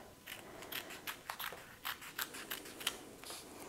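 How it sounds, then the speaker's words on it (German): Scissors snip through kinesiology tape while taping a caesarean section scar, a close series of quick, crisp cuts in an irregular rhythm, quiet with no talking. "Legt dann das Tape einmal so drüber und schneidet quasi in dieser Breite einmal ab."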